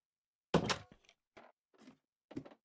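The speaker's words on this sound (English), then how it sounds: "Add a nice little access door." Access door being placed in Minecraft, a short solid thunk followed by three softer knocks spaced apart, close and clean against silence.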